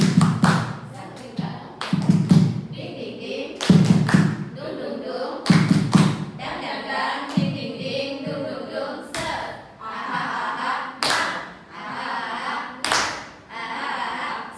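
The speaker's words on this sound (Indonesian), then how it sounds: "Tepuk semangat." A group of teachers performs a rhythmic spirit clap, with loud, sharp clapping and hand thumps in repeated patterns. Voices call out between the bursts.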